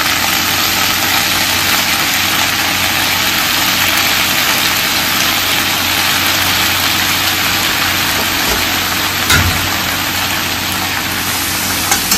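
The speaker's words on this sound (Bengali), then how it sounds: "এই পাশে একটা অ্যাকোয়াগার্ড চলছে, তাই জন্য আওয়াজ হচ্ছে অ্যাকোয়াগার্ড চলার" An Aquaguard water purifier runs nearby in a home kitchen, giving a steady, even motor hum with a faint high whine throughout, plus one soft knock near the end, with no talking.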